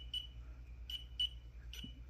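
Four short, high electronic beeps from a wire tester sound at uneven intervals, close and fairly quiet over a low background hum.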